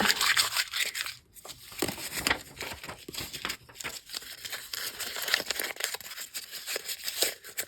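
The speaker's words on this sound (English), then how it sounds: "I think I want to crumple this and then uncrumple it." Paper being crumpled for a grungy junk journal tag, a continuous close crinkling and crushing rustle that swells and fades over several seconds without speech.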